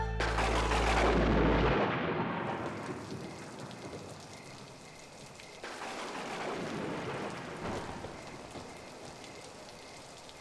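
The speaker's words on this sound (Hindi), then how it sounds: "अरे बाबा, एकदम घमासान बारिश हो रहा है। ये बारिश रुकने का नाम ही नहीं ले रही है बाबा।" Heavy rain pours down in a dense, steady roar, loudest at the start and easing slightly, with a deep rumble underneath early on.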